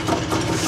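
Yamaha IT400 motorcycle engine idling, a brief low, uneven thrumming pulse heard close and loud, with no talk.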